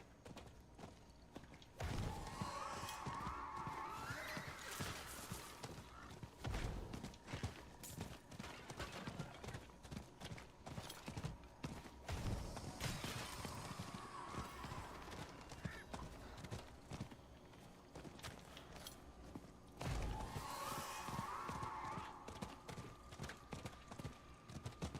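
Hooves of a horse mount clip-clop steadily at a gallop in the Diablo IV video game, a continuous rapid rhythm with occasional whinnies and thuds, loud and close.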